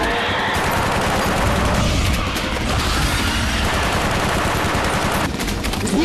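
Dense, continuous automatic gunfire fills an action film scene as characters shoot at a giant monster in a dinosaur versus giant crocodile creature feature, loud and sustained with booming bursts throughout.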